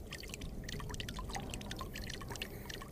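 A large water jug in the video game Ghosts of Tabor is poured out, giving a continuous close trickle with splashy dripping throughout.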